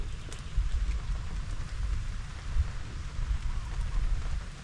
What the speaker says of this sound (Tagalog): Umuulan na naman po yung panahon.